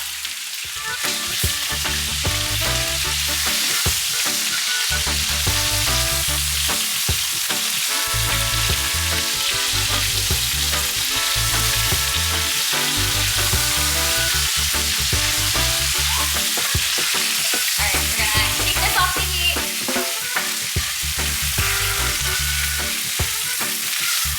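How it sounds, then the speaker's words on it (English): Chicken pieces searing in a hot pan for Jamaican brown stew, a loud, continuous sizzle and crackle with rhythmic stirring and scraping throughout, close and alone with no voices. "All right, now we're getting the sear that we want."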